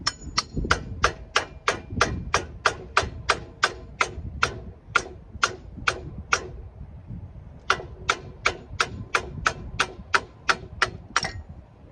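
Sharp metallic hammer strikes on a Toyota Sienna brake rotor ring out in a steady, rapid rhythm, about two per second, pausing briefly midway before the pounding resumes.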